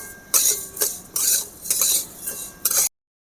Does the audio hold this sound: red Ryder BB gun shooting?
no